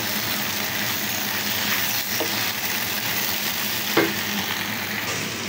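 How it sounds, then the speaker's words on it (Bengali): Pasta and tomato sauce being stirred together in a hot pan, a continuous soft sizzle with occasional scraping and clinks of the spoon against the pan, close and steady. "টমেটো সসটা দিয়ে ভালো করে নেড়ে চেড়ে মিশিয়ে নিচ্ছি।"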